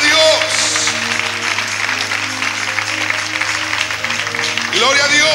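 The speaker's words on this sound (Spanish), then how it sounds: "Dale un aplauso al Rey con todo tu corazón." A church youth congregation claps for the King during a fellowship service, a steady patter of hands under sustained organ-like musical tones, with a voice briefly rising at the end.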